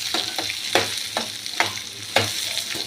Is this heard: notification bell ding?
no